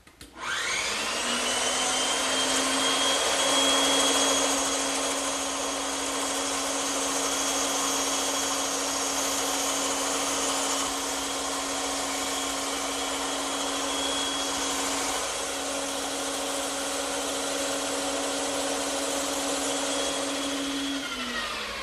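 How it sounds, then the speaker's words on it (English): A bandsaw runs with a steady high whine and a constant hum while freehand cutting a decorative arch in a wood piece, holding even and loud from start to finish with no talk. "this is where the bandsaw really comes in handy. And I'll just freehand it through"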